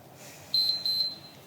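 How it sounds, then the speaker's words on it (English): Workout timer in a home isometric exercise session: two short, high-pitched electronic beeps in quick succession, clear against a quiet background. "Listen for that beep."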